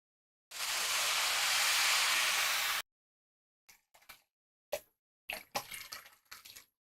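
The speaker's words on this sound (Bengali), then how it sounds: "এখন এখানে পানি দিয়ে দিব, তবে অবশ্যই গরম পানি। পানিটাও আমি মেপে দিচ্ছি।" Hot water is poured into a pot of measured rice and moong dal for bhuna khichuri, a loud continuous two-second stream followed by short, sharper splashes and trickles, with no talk.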